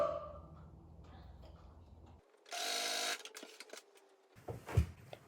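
A sewing machine stitching stretch fabric for a 1970s-style wrap dress, a quick burst of rapid mechanical whirring in a quiet room, framed by soft handling noises and a brief thump.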